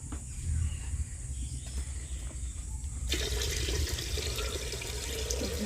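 Tap water running to wash rice, a steady hiss that jumps louder and brighter partway through as the flow increases, with no talk.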